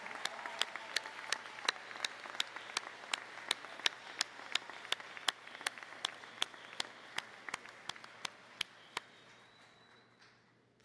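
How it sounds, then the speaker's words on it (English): Graduates at a 2019 college commencement applauding their families and mentors, steady crowd applause at a distance with sharp, evenly spaced claps from one nearby person standing out, fading toward the end. "graduates, please stand up, applaud your family, friends, mentors, everyone who has impacted you."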